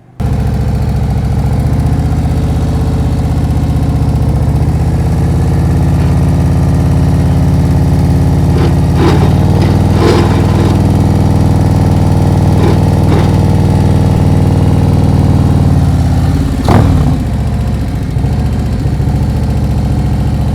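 A big motorcycle engine idles and putters steadily through slow-speed U-turns during riding practice in California, a loud, close, even drone with a few light clicks partway through and a brief rise near the end.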